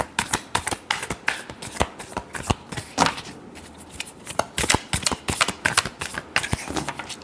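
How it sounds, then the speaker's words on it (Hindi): Tarot cards are riffled and shuffled close up in a rapid series of crisp flicking bursts and soft slaps, uneven in rhythm and continuing throughout with no talk. "Sorry, last shuffle."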